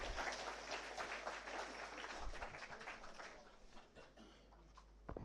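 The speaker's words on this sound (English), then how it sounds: "Give him a great applause" Students at an orientation programme applaud after a welcome speech, a moderate round of clapping that fades slightly toward the end, heard at low overall level.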